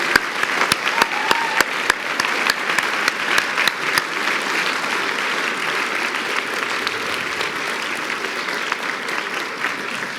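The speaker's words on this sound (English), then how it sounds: "let's give all of our parents a big round of applause" A crowd applauds steadily for several seconds at a regional student awards ceremony, dense clapping with a few sharp claps standing out at the start.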